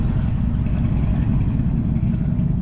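A truck engine runs steadily, a loud low rumble with mid-range clatter that holds constant throughout, close by and with no voices over it.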